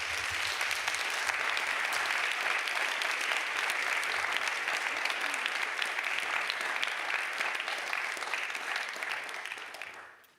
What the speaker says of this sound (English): please share me in thanking our panelists by a round of applause